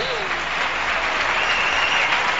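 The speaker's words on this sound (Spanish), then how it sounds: "Pues yo os voy a pedir un aplauso muy grande, de verdad, para una persona." Live radio show audience in Cádiz applauding, a broad sustained wash of many hands clapping at moderate distance, with a voice briefly audible near the start.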